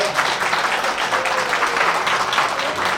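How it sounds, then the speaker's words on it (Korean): Wedding guests give a big round of applause to open the ceremony, a loud, continuous crowd clapping that fills the hall evenly throughout. "하객분들 큰 박수 한번 부탁드리도록 하겠습니다."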